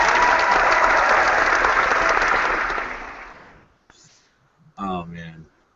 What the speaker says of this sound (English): Big round of applause for Ian.